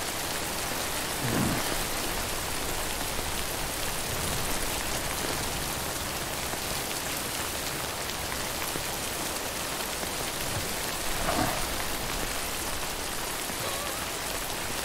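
Steady, heavy rainfall hisses throughout, with a couple of low rumbles of thunder rolling in the background; no voices. Rain in the video game Death Stranding.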